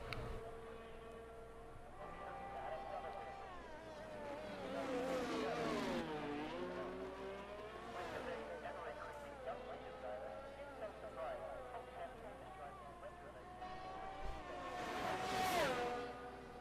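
F1 22 race cars in the Bahrain video game race whine and rev continuously, engine pitch rising and falling through gear changes, with a steady background drone.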